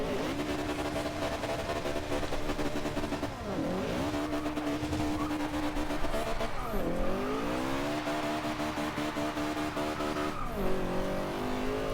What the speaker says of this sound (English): or else we're just going to keep spinning the tires.